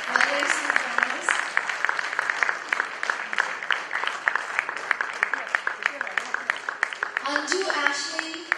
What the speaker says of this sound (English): Please keep clapping while there is some drummers.